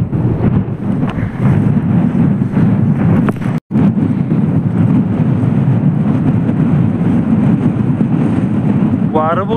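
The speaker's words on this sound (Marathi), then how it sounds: "वारं बघू शकता जोरात आहे वारं." Strong mountain wind near a waterfall in Kolhapur buffets the microphone with a loud, steady roar. The rumble barely varies, apart from one brief dropout early on.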